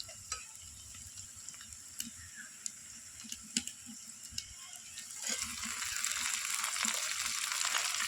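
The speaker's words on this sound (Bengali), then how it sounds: "এবার আমি এর মধ্যে দিয়ে দেবো চিংড়ি মাছগুলোকে।" Shrimp frying in a pan with onion and chili give a soft, steady sizzle with occasional utensil taps and clicks, the hiss growing louder and fuller toward the end, with no talking.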